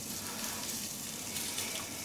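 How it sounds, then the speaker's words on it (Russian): Mutton tail fat melting in a hot frying pan gives a steady, close sizzle with dense hissing crackle that holds evenly throughout, with no voices. "Сковорода у нас накалилась, мы растапливаем курдючный жир"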